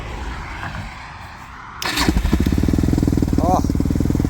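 A motorcycle engine on choke cranks quietly, then catches and settles into a loud, steady, close idle that throbs evenly after the start.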